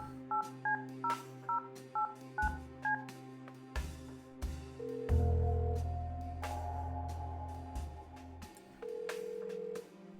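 A phone keypad dials a pager number in the Kathy Rain 2 game: a quick run of touch-tone digit beeps, then ringing tones and a sustained line tone, close and clear with no voices.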